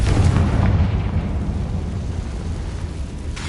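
A Confringo spell explodes in the Hogwarts Legacy video game: a loud, deep rumbling blast that swells at once and rolls on steadily for a few seconds before thinning out.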